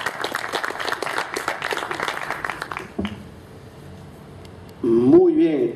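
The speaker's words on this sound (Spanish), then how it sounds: "Un fuerte aplauso al señor expositor Antonio Romero, por favor." An audience at a book presentation for Miserias de la Economía gives a strong round of applause for about three seconds. It cuts off to near quiet, and then a voice rises at the end.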